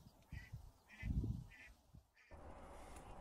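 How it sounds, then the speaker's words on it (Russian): A live decoy duck on a puddle during a spring drake hunt gives a series of nasal quacks, moderately close and spaced irregularly, with low rumbling noise underneath and a rising outdoor hiss near the end. "Вон утка летает. Пускай, может, сядет. Пускай сидит, крякает нам."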